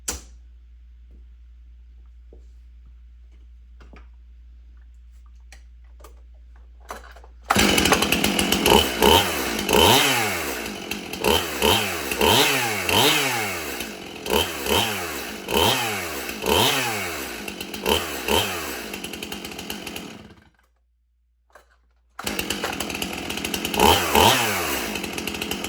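An MS-291 chainsaw roars to life after a quiet stretch, revving repeatedly in rising and falling bursts, cutting out for a moment, then starting again, loud and close.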